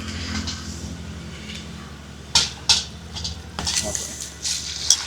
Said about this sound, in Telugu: బోటితో పాటు చికెన్ కూడా చికెన్ కూడా ఇప్పుడే కడుగుతున్నాను